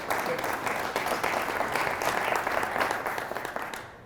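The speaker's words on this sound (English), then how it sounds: "That deserves a round of applause, I think." Business leaders at a CEO club meeting break into sustained applause, a thick, even roar of clapping from a large room that fades slightly near the end.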